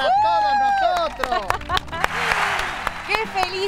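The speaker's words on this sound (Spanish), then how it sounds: "¡Un aplauso para todos nosotros!" Studio audience applauds at a televised charity telethon, steady dense clapping with cheering voices and a presenter's shouts over it.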